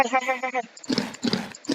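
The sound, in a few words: horse in Minecraft video game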